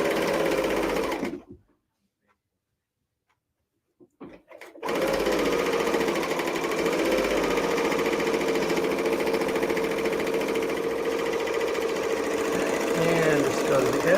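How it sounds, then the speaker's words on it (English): A 4-thread serger overlock machine stitches a seam, its motor whirring in a steady, fairly loud drone that starts after a brief silence and runs on without a break. "just go and serge"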